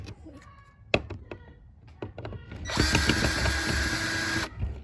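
A tool unscrews a bolt from a new deck, starting with a few sharp clicks and knocks, then a loud, steady whirring buzz that runs for about two seconds before cutting off.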